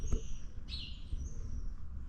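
Birds chirp outdoors, with a few clear high calls and a brief warbling phrase over a steady low outdoor rumble.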